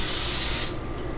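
A close, steady hiss of cooking oil spray from an aerosol can that lasts about half a second and then cuts off sharply, leaving quiet room tone.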